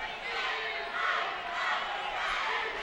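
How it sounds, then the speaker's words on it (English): Crowd at a high school football game between Wakefield and TC Williams, a broad, steady roar of many voices swelling and easing, with no distinct individual words. "Very good crowd tonight."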